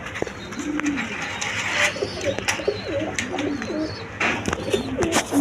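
Giribaz pigeons, males and females, coo repeatedly at close range, soft rolling calls overlapping one another, with a few sharp clicks and rustles in the background.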